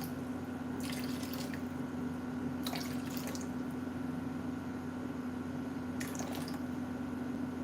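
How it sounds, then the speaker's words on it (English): Water is poured slowly into a bowl set on a kitchen scale, with three short trickling bursts rising over a constant low electrical hum. "You gotta pour slow towards the end because it takes time for the water to get from here to there"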